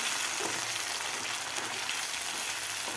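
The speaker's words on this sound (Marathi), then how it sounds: "मसाला सुद्धा आपल्याला दोन ते तीन मिनिट व्यवस्थित परतून घ्यायचा आहे" Masala sautéing in a pan for paneer masala, a steady dense sizzle and crackle that holds close and even the whole time with no talk.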